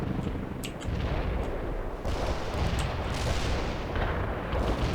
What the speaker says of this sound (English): We can deploy and lay down the heavy barrage.